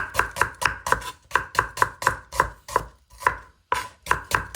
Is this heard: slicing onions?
yes